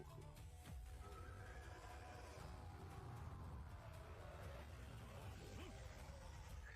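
A stallion neighs amid a dense, noisy fantasy-story soundscape, the whinny rising faintly from a rumbling background.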